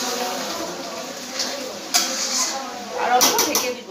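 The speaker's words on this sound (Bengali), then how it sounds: "আমি আলুগুলো মাংসতে দিয়ে দেব, দিয়ে ভালো করে ওকে কষিয়ে নেব" Potatoes being stirred into chicken curry in a pan, with a scattering of soft scrapes and a few sharper metallic knocks of a utensil against the pan, close and moderately loud over steady kitchen background.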